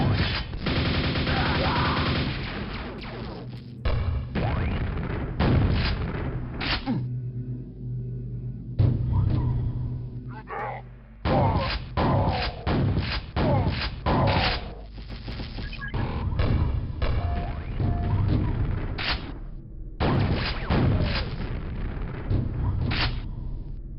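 Repeated grenade blasts and combat noise from the first-person shooter Quake fill a long stretch, with dense booming bursts separated by brief silent gaps, loud and close throughout.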